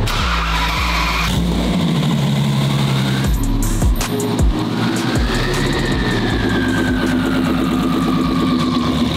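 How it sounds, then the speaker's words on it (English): A loud sports car engine roars and revs continuously on a cold start, with rough bursts and pitch swings, close and sustained throughout. "How freaking crazy does this car sound? That was just like the cold start."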